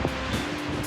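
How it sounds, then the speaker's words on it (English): Strong wind gusting outdoors near an RV in rainy desert country at Big Bend National Park, a steady broadband rush with buffeting against the microphone, continuous and fairly loud, no voices. "Super windy."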